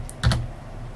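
Short burst of typing on a computer keyboard, a couple of quick close keystrokes against a quiet background.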